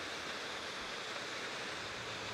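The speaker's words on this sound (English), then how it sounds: "That rain's getting a lot heavier." Heavy rain falls around a waterfall in the Lake District, a constant broadband hiss that is fairly faint and unbroken, blending with the rush of water.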